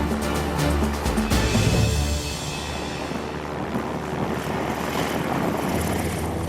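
Small propeller airplane landing on a glacier, its engine droning loud at full power with a rough rumble from the landing on snow and ice, the engine note dropping partway through.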